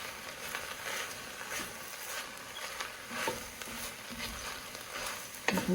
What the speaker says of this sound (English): now I'm gonna throw in my spinach. Just to cook it down a little bit.